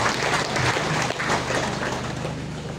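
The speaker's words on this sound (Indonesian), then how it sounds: "Mari kita berikan tepuk tangan untuk mereka" A crowd claps for liturgy helpers and a choir at a church gathering, a brief dense burst of applause that holds steady and loud throughout.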